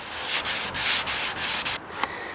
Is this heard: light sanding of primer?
yes